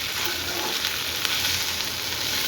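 Cooked okra sizzles steadily in a frying pan while being stirred, with soft scraping against the sizzle throughout.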